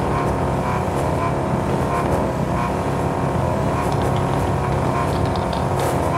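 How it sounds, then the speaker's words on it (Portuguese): Two old cars in Car Parking Multiplayer keep revving hard, producing a loud, unbroken, layered engine roar with no voices. "Acelera, continua acelerando dois."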